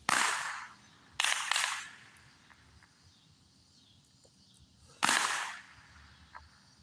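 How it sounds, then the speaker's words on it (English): Firecrackers set off outdoors at dusk during a fireworks gathering in a park, with a few loud sharp bangs, two in quick succession, then a pause before another crack and faint distant pops. "They're starting to have a firecracker fight."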